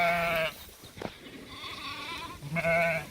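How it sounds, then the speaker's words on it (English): Sheep on a pasture bleat twice, loud and close, with a quieter break in between. "Look at these sheep."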